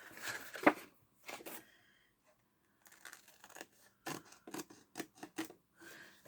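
Scissors snip through paper and card for a Christmas shaker card, a series of close, crisp cutting rasps in short separate strokes, broken by quiet pauses.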